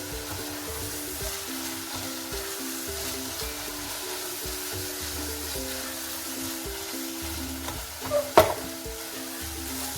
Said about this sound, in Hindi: तो हमने बहुत अच्छी तरह से मसाला भून जाने तक इसको मिक्स करना है।